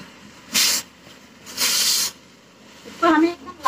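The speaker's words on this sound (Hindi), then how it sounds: "जब तक हमारी प्याज भूनती है" Onions frying in oil in a pan for Rajasthani gatte ki sabji, giving off bursts of hissing sizzle that rise and fall, with a short stretch of speech near the end.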